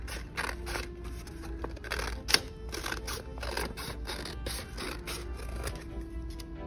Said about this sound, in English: there I have a little invisible line that I'm going to cut along with my scissors